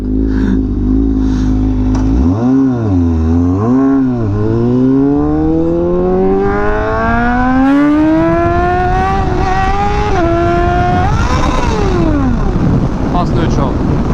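A Honda Fireblade RRR SP sportbike engine revs hard, dipping twice before climbing in a long rising whine after slipping into false neutral, loud and close throughout.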